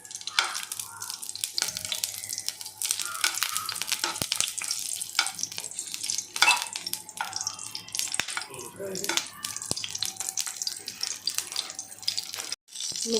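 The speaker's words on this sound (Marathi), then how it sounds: "तेल गरम झालं आहे ह्याच्यामध्ये आधी मी मिरच्या टाकत आहे" Green chillies frying in hot oil in a pan, a continuous loud sizzle with crackles and stirring scrapes, while someone talks over it.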